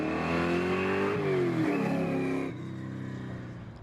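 A 1991 Ford Mustang engine revs hard and loud nearby, rising in pitch, dipping briefly, then settling to a lower steady drone with no talk over it.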